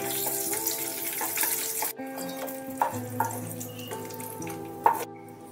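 Raisins frying in a little oil after cashews make a close sizzle that fades after a couple of seconds, followed by soft clinks and scrapes of a spoon against the pan.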